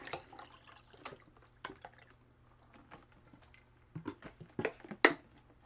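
Water being refilled during a live tornado weather broadcast, a series of irregular splashes, drips and pouring gurgles close by, quiet between bursts and louder near the end.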